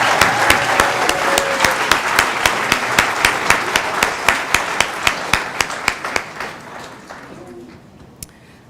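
A large audience at a staff awards and recognition ceremony claps for newly promoted employees, sustained applause that settles into strong rhythmic unison clapping before fading out, with a few last claps near the end.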